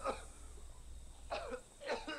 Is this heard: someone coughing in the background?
yes